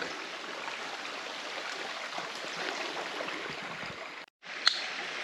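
A small stream at a trail water source along a forest hiking trail, a steady close rushing babble that fills the clip, cut by a brief gap near the end before resuming.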